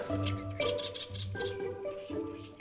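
Crested lark-type bird calling outdoors in Wuqi, a series of short bright chirps and whistled notes repeating several times, faint and alone with no talk.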